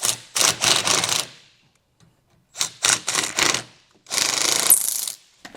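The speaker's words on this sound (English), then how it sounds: "Now we're going to go ahead and attach it using some self-tapping screws." Self-tapping screws are driven into a mounting bracket for a Roadmaster Universal Hy-Power diode wiring kit, heard as loud close bursts of rough grinding and ratcheting with silent gaps between them.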